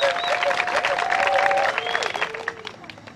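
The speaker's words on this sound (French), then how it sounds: "Je voudrais donc que vous applaudissiez encore une fois de plus." Crowd applauding at a political speech in Mondombo village, loud clapping mixed with cheering and high whistle-like calls, fading slightly toward the end.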